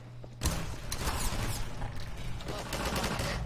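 Rapid, dense gunfire in a Half-Life 2 co-op match played in Garry's Mod, kicking in sharply after a brief quiet moment and continuing as a loud, sustained barrage for several seconds.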